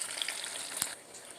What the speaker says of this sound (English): Sauteing up this fish, this halibut fish